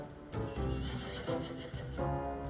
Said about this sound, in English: The horse noises was ridiculous.